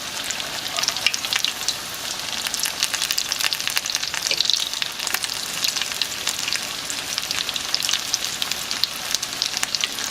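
Potato and cheese cakes fry in hot oil with a loud, dense crackling sizzle that stays steady and close throughout, with no talking.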